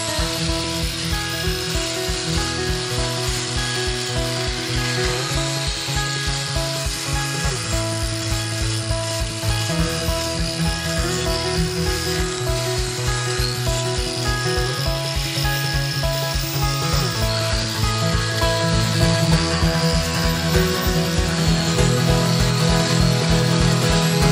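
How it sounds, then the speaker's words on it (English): A power grinder shapes a wooden bear carving, giving a loud, continuous whirring grind with shifting pitch that holds steady for the whole stretch, with no voices over it. "I like to take my grinder and shape a little bit of this."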